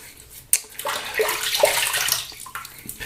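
Water runs and splashes close by while a shaving brush and a face are wetted before lathering shaving cream, a steady rushing flow with a sharp splash near the start.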